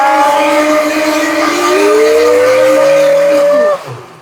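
A blender runs loud and close while blending a fat-burning smoothie, its motor whine climbing steadily in pitch before cutting off abruptly near the end.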